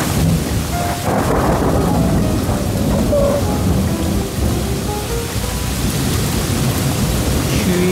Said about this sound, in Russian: Блин, каждый день гроза.